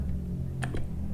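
The Enter key is pressed on a computer keyboard while typing database commands in a command prompt, giving two quick, close clicks over a steady low hum.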